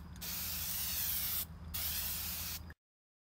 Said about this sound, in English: I'm going to go ahead and do the splash guard with the hammered spray paint